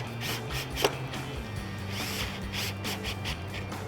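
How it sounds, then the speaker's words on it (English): Phillips panhead screws being driven into the header panel of a Jeep Wrangler JK soft top, a steady close mechanical whirring and ratcheting drone that runs continuously with small clicks, no voices. "And we will get this bow screwed down to our header panel."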